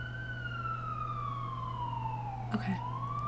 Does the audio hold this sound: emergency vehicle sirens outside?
yes